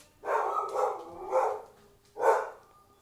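Dogs barking nearby in a home during a casual livestream, three loud bursts of barking, the last one set apart after a short pause, with no talk over them.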